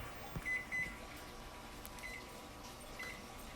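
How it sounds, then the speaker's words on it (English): A kitchen timer gives a few short, faint beeps as it is set, in two quick pairs and then a single beep, close by in a quiet kitchen with soft handling noise. "let's set our timer for an hour"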